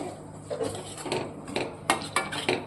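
A spoon stirs Kathiyawadi-style okra curry with gravy in a pan, scraping and clinking against the metal in a series of close, uneven knocks.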